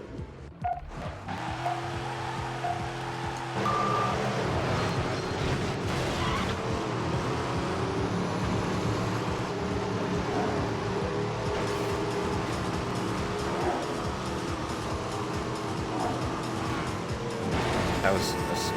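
Car engines in the racing video game Midnight Club 3, heard from a third-person view as a steady, loud drone with shifting pitch, broken by brief beeps and tonal effects throughout.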